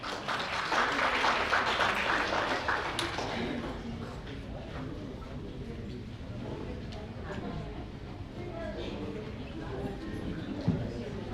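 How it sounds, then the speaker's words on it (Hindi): An audience applauds at a 75th birthday celebration, a broad patter of clapping that is strongest at first and then thins, mixed with indistinct crowd chatter throughout. "इनके लिए जोरदार तालियां"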